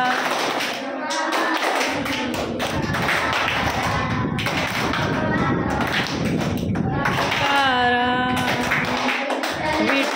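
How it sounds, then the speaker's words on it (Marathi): Bhajan-style rhythmic hand clapping from a group, with steady repeated claps that keep time under chanting and singing voices through most of the stretch. "आता आपण भजन टाळी घेणार"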